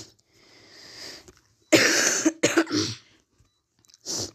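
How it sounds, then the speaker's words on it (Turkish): A few harsh, rough coughs from someone who is ill, close to the microphone, one burst then a couple more, separated by short quiet gaps and a faint breath. "Sadece birazcık öksürük var."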